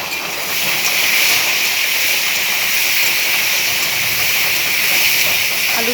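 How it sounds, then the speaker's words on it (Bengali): Potatoes frying in an open pan, a loud, dense, even hiss of oil that runs steadily and close throughout with no pauses. "আলুটা একটু ভাজা ভাজা হয়ে গেছে"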